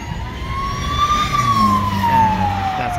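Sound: police car siren passing on a Brussels street

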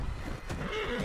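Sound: horse neighing in video game Red Dead Redemption 2

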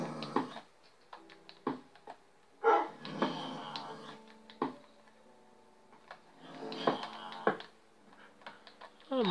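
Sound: dog following the player in Minecraft video game

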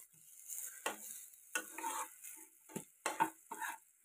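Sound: eggplant (baingan) frying in a pan on low flame

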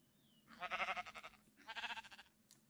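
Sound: sheep bleating in the video game Minecraft

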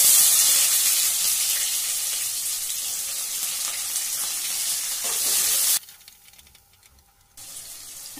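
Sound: onions frying in oil for egg fried rice

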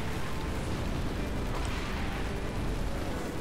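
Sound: turret firing and explosions in the video game Halo 3

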